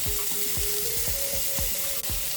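Chopped carrot and tomato fry in a pan for Indian-style quinoa, giving a dense, steady sizzle close up, with a rhythmic series of soft scraping stirs repeating roughly twice per second.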